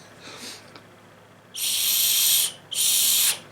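Two long, breathy, airy blasts on a survival kit wristband whistle, each about a second, sounding more like hissing air than a clear tone, close by.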